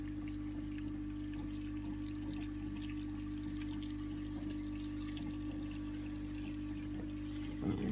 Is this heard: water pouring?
yes